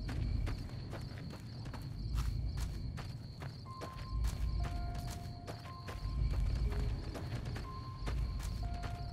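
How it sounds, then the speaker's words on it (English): Footsteps patter steadily behind the player in Fallout New Vegas near Nipton, a quick, even run of clopping steps under a low ambient hum, with no talk. "I do hear footsteps behind me."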